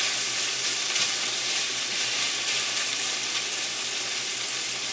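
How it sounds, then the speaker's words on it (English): Onions fry and caramelize in a pan with a continuous, close, crackling sizzle, steady throughout with faint stirring and no voices. "You want to caramelize the onions just a little bit."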